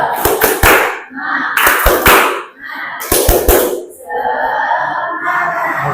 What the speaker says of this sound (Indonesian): Ayo tepuk semangat dulu.